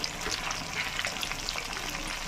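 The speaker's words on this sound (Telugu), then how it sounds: "ఒకవైపు వేగినాయి కదా రెండో వైపు తిప్పుకుంటున్నాం" Fish pieces sizzle steadily in a frying pan with oil, a soft continuous crackle with small pops, fairly quiet and close, no voices.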